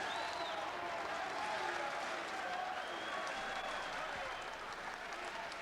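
Boxing crowd at a fight night in Cannock applauding at the end of the seventh round, a steady wash of clapping and crowd noise filling the whole stretch at moderate distance, with faint voices mixed in.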